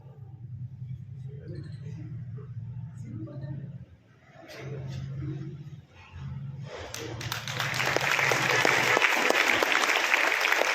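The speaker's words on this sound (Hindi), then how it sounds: "राकेश सर के लिए जोरदार तालियां" A crowd at a school medal ceremony for a national maths competition winner bursts into applause partway through, loud and sustained to the end, after a stretch of low rumble and murmuring.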